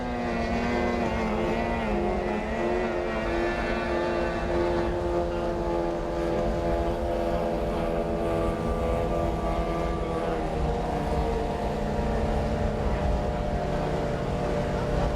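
Powerboats racing at the Sibu Powerboat Race, a continuous loud roar of engines with several droning tones that shift slowly in pitch, steady throughout with no pauses.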